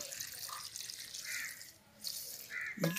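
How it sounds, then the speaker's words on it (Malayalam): Water poured into a pot of jackfruit curry being cooked in a home kitchen, a steady splashing stream that swells near the end, with a faint voice briefly under it. "ഇതിലേക്ക് ഇനി നേരത്തെ വന്ന് വെള്ളം ഒഴിക്കുക."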